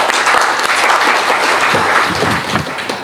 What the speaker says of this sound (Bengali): আমরা সবাইকে হাততালি দিই